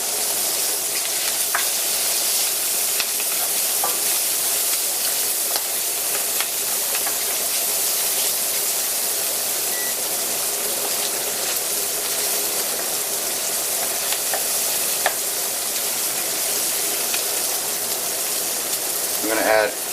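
Crushed chili flakes frying in hot oil in a pan for lobster fra diavolo, producing a loud continuous hiss and crackle close up that runs unbroken throughout, with occasional small pops and clinks.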